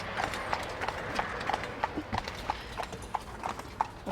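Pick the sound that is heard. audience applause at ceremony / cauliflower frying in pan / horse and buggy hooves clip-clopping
horse and buggy hooves clip-clopping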